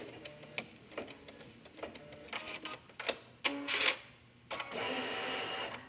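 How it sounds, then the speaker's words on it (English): Sewing machine stitching three dividing lines on an embroidered passport cover with a strong triple stitch, rapid mechanical clatter with bursts of faster whirring, close and steady with no talking. "This step is stitching 3 dividing lines that's going to create 2 pockets."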